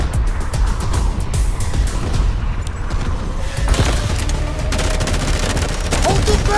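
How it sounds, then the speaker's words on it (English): Dense, continuous barrage of explosions and rapid gunfire-like blasts from a guided missile splitting into four bombs in the game Delta Force, loud and booming throughout with no pauses. "this devastating missile can be remotely guided to deliver precise long-range strikes, splitting into 4 bombs upon impact"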